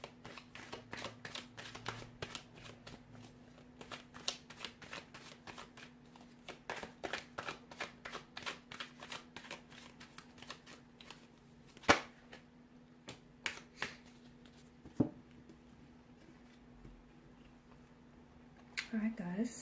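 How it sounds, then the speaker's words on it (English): Tarot cards being shuffled up close, a run of crisp riffling bursts and soft snaps coming in uneven clusters over a low steady hum. "So we'll give the cards a shuffle here"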